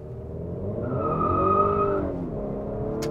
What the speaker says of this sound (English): let's go take a test drive and really see if we can feel the difference in horsepower